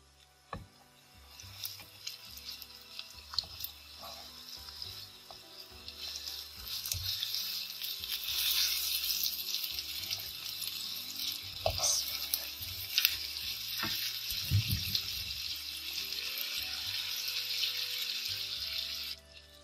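Seekh kebabs frying in a pan, a steady loud sizzle and hiss that swells after a quieter start, with occasional clinks and shuffles as the kebabs are turned.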